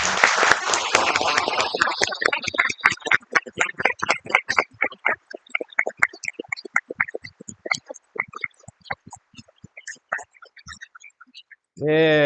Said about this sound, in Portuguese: Peço, por favor, uma grande salva de palmas para todos eles.